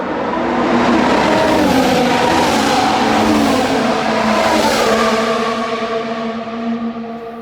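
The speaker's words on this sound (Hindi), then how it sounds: "उनकी गाड़ियों की आवाज़ें इतनी तेज़ हैं कि मुझे अपनी आवाज़ सुनाई नहीं दे रही बोलने में" Formula 1 race cars passing at high speed on the Baku street circuit, a loud screaming roar rising and falling as cars go by, with a high whine and echo off the surroundings.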